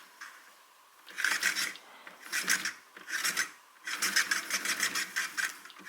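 Scraping, rasping rubs from a Balmuda evaporative humidifier after long use, coming in four or five separate bursts of about a second each with short gaps between them. The bursts are moderately loud and close, with nothing else heard.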